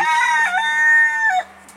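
A rooster crows once in a garden, a loud, close, sustained call with rising and falling harmonic tones lasting over a second before cutting off, followed by a quiet hum.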